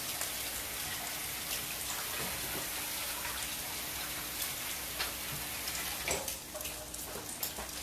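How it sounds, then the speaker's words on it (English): Tap water running steadily in a kitchen sink while hands are washed, a constant close splashing hiss with a few brief disturbances near the end, no talking. "Let me wash my hands"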